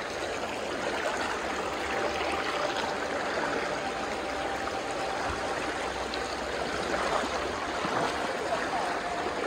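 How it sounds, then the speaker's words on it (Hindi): Water of the Kosi River rushing and splashing steadily as people wade across a stream over slippery rocks, a continuous broadband rush from start to finish with no talking. "अभी हम यहाँ से पानी क्रॉस करके आगे जा रहे हैं"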